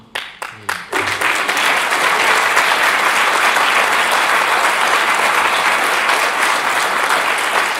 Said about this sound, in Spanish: Yo les agradezco enormemente los aplausos